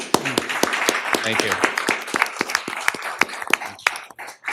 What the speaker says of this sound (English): I do want to applaud you. So join me.